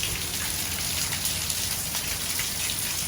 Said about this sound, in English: That's rain just falling.